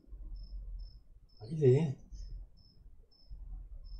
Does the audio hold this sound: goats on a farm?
no